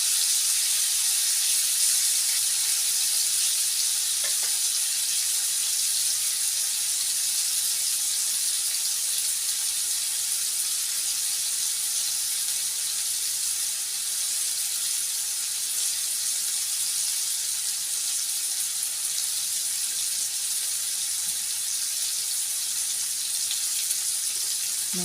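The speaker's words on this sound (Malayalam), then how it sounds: "എല്ലാവരും ഈ മസാല പുരട്ടിയിട്ട് മീൻ വറുത്ത് നോക്കുക, നല്ല ടേസ്റ്റാണ്" Tuna coated in spice masala fries in a pan, giving a steady, even sizzle and hiss that carries on without a break. It sounds close and moderately loud, with no voices.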